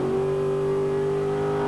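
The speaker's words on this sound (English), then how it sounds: "A big supercharger sitting on top of the V8 engine." A supercharged front-engined V8 nitro dragster at a Hockenheim drag racing event gives a loud, steady, close engine drone with strong low harmonics, sustained without break and with no talking.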